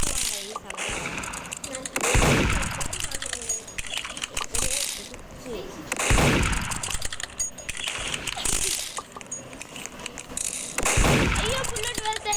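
Video game gunfire crackles in four loud bursts spaced about four seconds apart, each a sharp crack trailing into a brief rumble, with busy game sounds filling the gaps between them.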